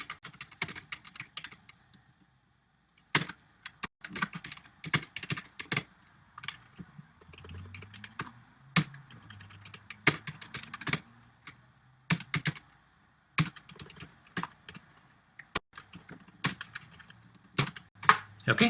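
Close computer keyboard typing in irregular bursts of crisp key clicks with short pauses, fairly quiet and alone.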